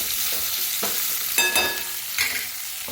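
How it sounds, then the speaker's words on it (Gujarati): Onions sauté in a pan on a gas stove, a steady bright sizzle with several stirring scrapes and clinks of the utensil against the pan, close and continuous. "ખાસ ગેસ પર જ આપણે થોડી ડુંગળીને સોતે થવા દઈએ."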